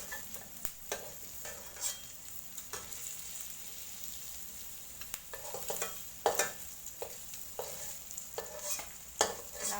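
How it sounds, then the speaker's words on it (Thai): Garlic stir-fried in rendered pork belly fat, a steady crackling sizzle with repeated scraping clicks of a spatula against the pan, fairly close and without any talk. "ตักหมูขึ้นก่อนแล้วผัดกระเทียม"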